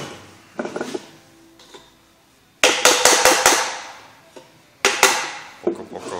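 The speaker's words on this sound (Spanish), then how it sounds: "Yo no, yo lo saco todavía con golpes, poco a poco." Hammer blows knock the end cover off an induction motor that jumps and overheats on starting, loud close metallic strikes in bursts with rapid runs of several hits, ringing between them, no talk.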